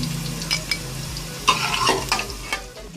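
Food frying in oil in a pan for Arabian rice, steady sizzle with several scraping stirs and clinks as pieces are lifted out, close and fairly loud.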